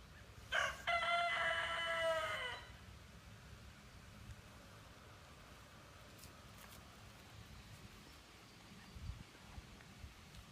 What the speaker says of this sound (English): I'm going to show you how to hypnotize a chicken